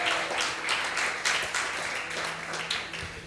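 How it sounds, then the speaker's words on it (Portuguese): Church congregation applauding to welcome a visiting pastor, a steady wash of many hands clapping indoors at moderate level with no talk over it. "Eu queria que a gente o recebesse com uma forte salva de palmas"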